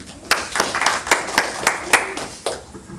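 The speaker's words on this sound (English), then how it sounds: "A big round of applause to all the kids for their wonderful effort" A few people at a cultural center clap for children's performance, distinct individual claps spaced unevenly over a few seconds, fairly close and moderately loud.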